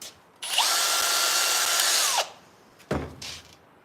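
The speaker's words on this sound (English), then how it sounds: "Drill." A power drill whirs loudly for about two seconds during cabinet work, spinning up and winding down, then gives a couple of short, quick bursts.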